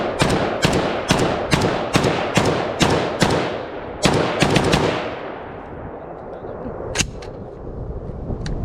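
A SIG 551 rifle with a 16-inch barrel fires a rapid string of about a dozen sharp, loud shots in quick rhythm. A pause follows, then one more single shot rings out.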